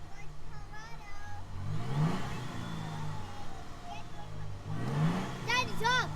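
A 2022 Toyota Tundra TRD Pro engine revs twice in strong rising surges, loud and close, with a child and an adult talking over the engine noise between the revs.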